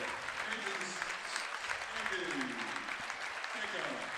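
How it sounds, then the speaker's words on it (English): A student section claps through the closing seconds of a varsity boys regional final basketball game against Sanford Meridian, a steady patter of applause heard faintly and at a distance while a commentator talks over it. "Not just sitting there clapping."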